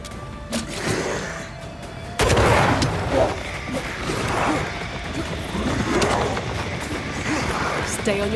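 Gunfire aimed at a lantern in Banishers: Ghosts of New Eden, with sharp shots and a loud impact among growling creature sounds and combat clatter, voices speaking over it.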